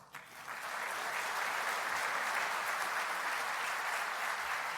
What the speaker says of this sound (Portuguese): que agora o aplaudem fervorosamente